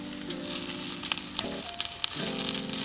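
Eggplant pieces sizzle steadily in a hot pan during a stir fry, a continuous close crackle with a few sharper pops and brief stirring clatter.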